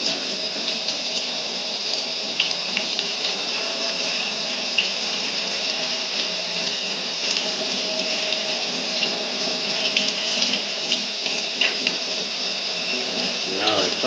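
Water runs steadily from a tap while thumbs are rinsed under it, a continuous splashing hiss heard up close for the whole stretch, with a few small clatters near the end.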